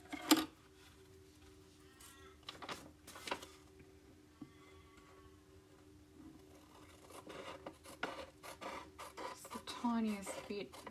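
Paper being trimmed to cut the printed border off a junk journal page, with a few sharp snips and soft scraping rubs, close and quiet, busier toward the end.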